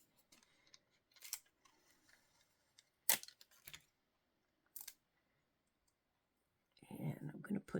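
Scissors trim double-sided tape on an envelope being altered, giving a few short, sharp snipping clicks spread out in a quiet room, with a louder rustle of handling at the end.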